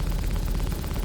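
Twin Panther laser cannons on an Anvil Hurricane in Star Citizen let off a loud, continuous rapid-fire volley, each shot quickly following the last.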